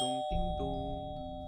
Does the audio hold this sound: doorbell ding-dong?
yes